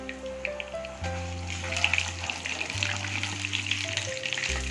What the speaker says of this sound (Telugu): ఆయిల్ హీట్ అయిందండి. ఇప్పుడు ఇందులో కొంచెం శనగపప్పు, మినపప్పు, ఆవాలు,